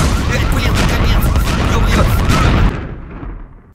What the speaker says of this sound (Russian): Что это был за взрыв, нафиг?